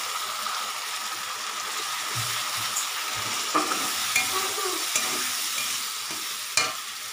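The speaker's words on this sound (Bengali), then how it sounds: "আমি আদা, রসুন আর কাঁচা লঙ্কা যেটা একসাথে বেটেছিলাম সেটা দিয়ে দেবো" Ginger, garlic and green chilli paste fries with browned onions in hot oil, a loud, steady sizzle throughout with occasional scrapes and knocks of the stirring spoon, no voices.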